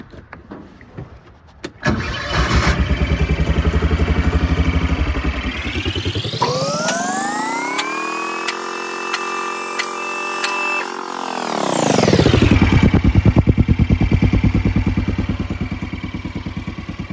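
A 2011 Kawasaki Mule 610 XC utility vehicle engine, exhaust spark arrestor missing, idles, then revs up with a high whining squeal sliding upward, holds, and drops back to a rough idle.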